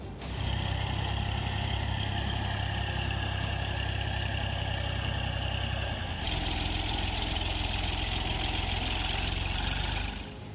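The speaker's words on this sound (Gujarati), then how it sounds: "આખું વર્ષ ખેતરમાં પરસેવો પાડીને તૈયાર કરેલી પોતાની જ ડુંગળી પર ટ્રેક્ટર ફેરવી રહ્યો છે આ ખેડૂત" A farm tractor runs steadily over an onion crop in a field in Savarkundla, Amreli, its diesel engine a loud, close, droning rumble with a shift in tone midway, no talking.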